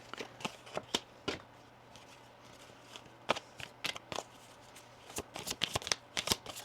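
Tarot cards being shuffled, drawn and laid out on a table, a series of quick crisp card snaps and slides in irregular bursts, close and fairly quiet, with no voices.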